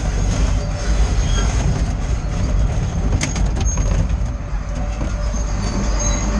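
A power shovel coming off a lowbed trailer, a loud continuous heavy mechanical rumble with grinding and metallic squeals, close by and steady throughout, with no talk.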